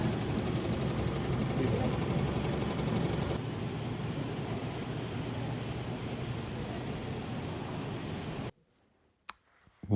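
A BAi embroidery machine motor on a factory floor, giving a steady broadband whir with light clicking throughout, which then cuts out abruptly near the end, leaving near silence and a couple of brief knocks.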